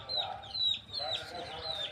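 Chickens clucking in short repeated bursts while being fed greens, fairly close and at moderate loudness, with a steady low background hum throughout.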